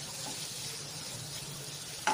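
Ridge gourd bhaji with masala simmers in a pan, giving a soft, steady sizzle close by and fairly quiet, with a brief clink right at the end.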